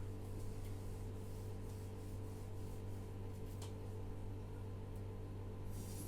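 Writing is rubbed off a board during a maths lesson, heard as faint, steady scrubbing under a constant low room hum.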